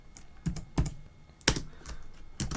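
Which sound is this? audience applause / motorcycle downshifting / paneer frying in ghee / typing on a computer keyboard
typing on a computer keyboard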